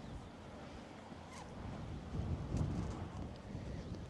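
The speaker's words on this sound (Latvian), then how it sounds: "Vējš arī pacēlās diezgan tāds pamatīgs." Strong wind roars steadily across a riverside fishing spot on the Bārta, buffeting the microphone with a low rumble that swells slightly midway.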